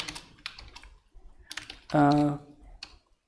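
Computer keyboard typing while writing React code, quick bursts of key clicks spread through the clip, with a short hum-like voiced tone cutting in midway.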